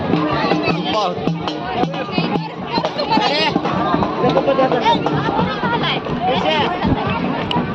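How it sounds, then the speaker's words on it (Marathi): A huge, dense crowd of devotees mills about at the Yermala Yedeshwari temple fair, with steady babble and overlapping voices, some speech close by and a busy, continuous hubbub throughout. "तुफान गर्दी असते"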